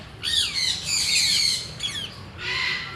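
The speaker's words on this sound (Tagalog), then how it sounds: "Maingay talaga pag mga ibon." Birds at a wildlife park giving loud, harsh squawks in three close bursts, the longest in the middle, heard alone without speech.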